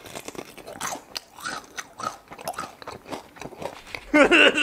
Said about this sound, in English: you never had Korean fried chicken before, it's like super crunchy